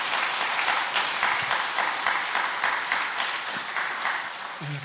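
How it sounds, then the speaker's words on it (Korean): A church congregation applauds at a service installing a senior pastor, a full, steady round of clapping from many people that fades slightly toward the end, with a faint voice near the close. "이렇게 봉사해 주신 모든 분들께 우리 감사와 박수 크게 한번 올립시다."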